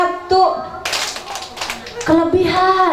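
Young kindergarten children at an Islamic school performance clap together on a teacher's cue, a burst of hand claps between stretches of adult speech.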